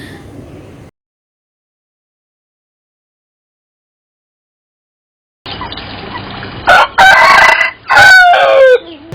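After a brief stretch of low noise and then silence, a rooster crows loudly twice close by, with some clucking mixed in.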